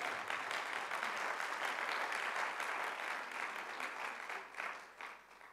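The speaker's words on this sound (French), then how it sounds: "On peut les applaudir, gloire à Dieu" A church congregation applauding the young people, dense steady clapping from many hands that holds evenly, then thins and fades toward the end.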